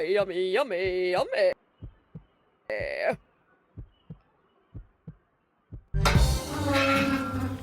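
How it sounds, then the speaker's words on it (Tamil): A heartbeat sound effect thumps in a steady rhythm of short, evenly spaced low beats, broken up by brief tonal musical stings, before a loud burst of louder, noisier sound takes over at the end. "எனக்கு ஹார்ட் பீட் சத்தம்லாம் கேட்குது கைஸ்."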